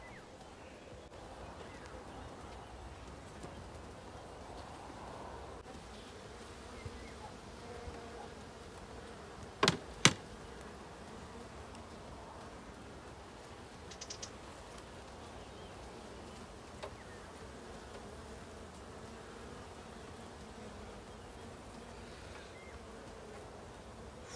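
Honeybees and drones buzz steadily around a beehive entrance, where bees are bringing in pollen. The buzzing is a continuous, fairly quiet hum with a couple of brief knocks partway through.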